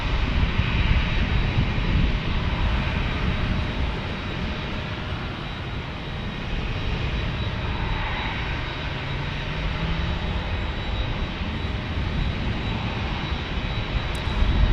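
A DHL cargo jet roars past a San Diego airport as a loud, steady engine rumble with a broad airy hiss that swells slightly and then eases off.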